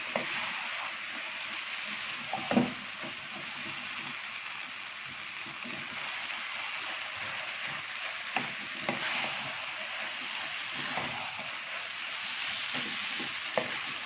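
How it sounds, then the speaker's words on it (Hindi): Chicken frying in masala for haleem, a continuous sizzle with occasional louder pops and clinks of stirring, close and steady throughout. "भून लेना चिकन को इस मसाले के अंदर।"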